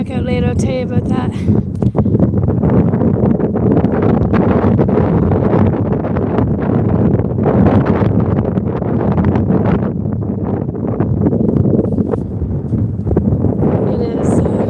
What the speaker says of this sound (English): Sorry the wind's in your ears now for a minute or two